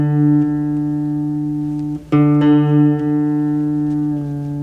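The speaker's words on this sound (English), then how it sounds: "Now, remember we tune up, so I'm going to tune down" A single guitar string rings steadily as a lesson tone, then drops briefly in pitch and is re-struck and brought back up, sustaining cleanly and close with no talking.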